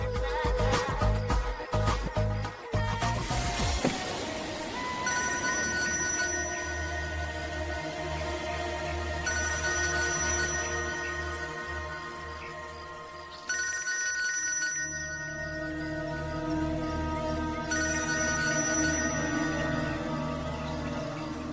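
A telephone rings on and on without being answered, its repeated bursts of bell-like ringing carrying loud and steady over a low background bed.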